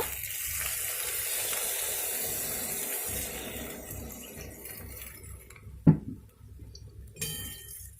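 Water splashes into a hot pan of chilli soya, starting with steady frying sizzle that is broken by a sharp clatter and then fades to a quieter, uneven bubbling simmer.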